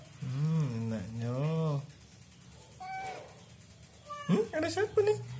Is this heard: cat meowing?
yes